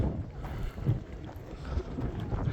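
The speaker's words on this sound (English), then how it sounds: "I'm so sorry about the wind." Steady wind buffeting the microphone on the open summit of Mount Gerizim, a continuous low rumble with gusty swells and no voices.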